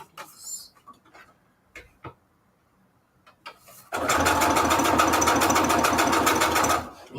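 A sewing machine starts up after scattered quiet handling noises and runs steadily at a fast, even rhythm for about three seconds before stopping.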